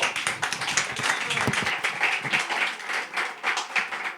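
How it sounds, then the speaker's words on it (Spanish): A church workshop audience applauds a speaker with a burst of brisk, uneven hand clapping, loud and fairly close, a few sharper claps standing out before the clapping thins toward the end. "Un aplauso ahí para el hermano"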